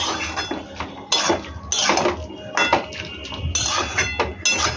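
A lid set onto a cooking pot of lau chingri, bottle gourd with prawns, with several close metallic clinks and clatters as it is shifted into place.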